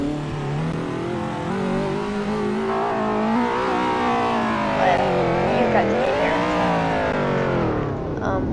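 A 2018 Acura TLX A-Spec engine revs steadily and loudly up close, its pitch rising and falling through several climbs with no talk over it.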